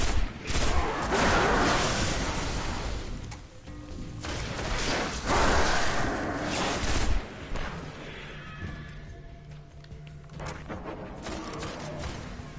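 Gunfire in the video game Destiny: repeated bursts of shooting and mechanical clatter echo at moderate distance, fading into quieter ambient rumble.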